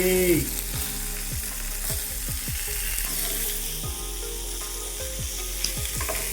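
Crispy fish pieces fry in a pan with little oil, giving a loud, steady sizzle and crackle up close, with a few scraping and clinking touches under it and no talk.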